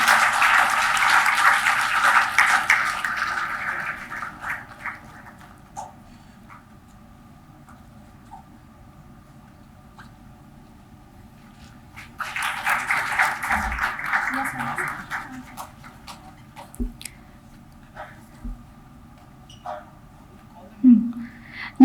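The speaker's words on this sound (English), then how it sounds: "please give them a big round of applause" Audience at a formal MoU signing ceremony applauding, a broad wash of clapping that fades out, then returns for a few seconds before trailing into quiet room noise with scattered clicks.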